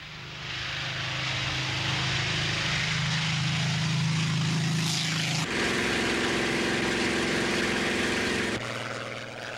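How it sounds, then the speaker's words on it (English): A Second World War Spitfire fighter plane drones past with a loud, continuous piston propeller engine roar, its pitch shifting abruptly twice as the aircraft passes, with no voices present. "There was the Spitfire, perhaps the most glamorous of all the Second World War fighters."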